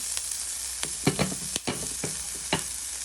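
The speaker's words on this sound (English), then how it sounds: "I heated oil before I put the onions and peppers in." Onions and peppers dropped into a pan of preheated oil, a soft steady sizzle broken by several sharp clacks and scrapes of stirring close by.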